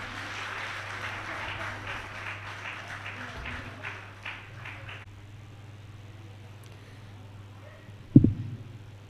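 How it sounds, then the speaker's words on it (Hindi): Applause from an assembly audience at a religious gathering, a dense clatter of clapping for about five seconds that fades into quiet room noise with a low hum, then a sharp thump near the end. "एक बार जोरदार तालियों के माध्यम से"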